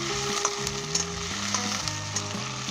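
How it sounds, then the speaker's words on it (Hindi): Chicken with ginger and garlic fries in oil over high heat in a karahi, a loud, continuous crackling sizzle close up with light stirring clinks and no talking. "अब हम इसके अंदर चिकन डालेंगे। तो इसे तेज़ आंच के ऊपर अच्छे तरीके से 5 मिनट हम भूनेंगे।"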